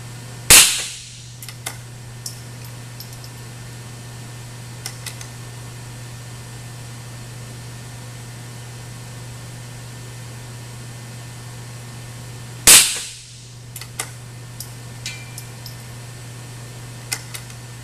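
Two sharp, loud rifle shots about twelve seconds apart, fired from a rifle with a stopped muzzle and no tuner, each a single crack with a quick decay, separated by quiet outdoor background.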